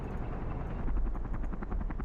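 A helicopter in the video game Men of War: Assault Squad 2, during a Cold War battle at the Berlin Wall, gives a steady rhythmic rotor thumping over a low rumble, fairly quiet and continuous, with no talking.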